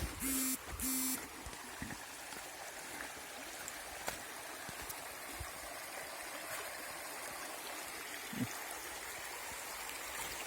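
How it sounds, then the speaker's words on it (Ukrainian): A mountain stream flowing steadily in the Skole Beskids, Ukraine, a constant rushing babble with a few brief clicks and tones early on, no speech. "Гарна річка, гірська річечка."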